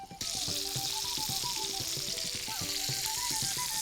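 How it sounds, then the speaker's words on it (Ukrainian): Tomatoes fry loudly in a hot pan with liver and onion, skins crackling, a dense steady frying hiss with small popping bursts, and a voice murmurs faintly beneath it. "Я вже чую саме зараз, як тріскається шкірочка томатів"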